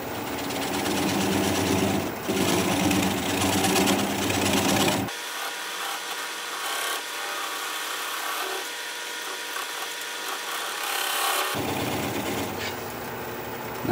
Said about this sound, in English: I want to switch to a swept-back bowl gouge so that I can get in there closer.